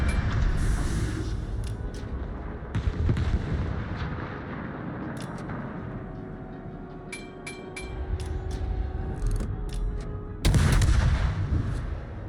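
Naval guns fire in a World of Warships battle, heavy booming blasts scattered over a steady rumble of engines and sea, with a few sharp metallic pings and one loud, close blast near the end.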